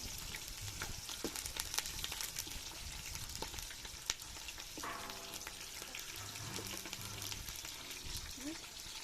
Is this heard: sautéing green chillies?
yes